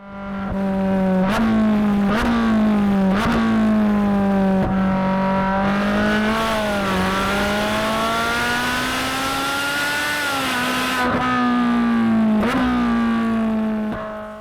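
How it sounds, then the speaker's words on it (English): A Ferrari 458 Speciale's mid-engine 4.5-liter V8 with dual port exhaust drones steadily at high revs, its pitch rising and falling with gear changes and brief sharp blips, loud and close with no talking. "this is a dual port exhaust, which just sounds incredible"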